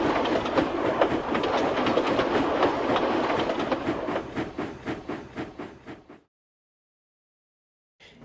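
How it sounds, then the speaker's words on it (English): Steam express train setting off, a fast rhythmic clatter of wheels on rail joints with hissing, loud at first then thinning and fading into a sudden silence, followed by a brief return at the end. "With that, the guard blew his whistle and Rebecca set off with her express."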